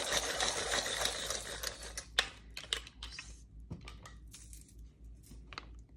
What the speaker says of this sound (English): let's just sharpen that one as well